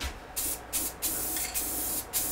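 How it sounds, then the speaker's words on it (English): Rust-Oleum primer hisses from a spray can around the edge of a carved wooden sign board in five or six short, even bursts, close and clear with pauses between them. "So I'm going to spray all the way around the edge."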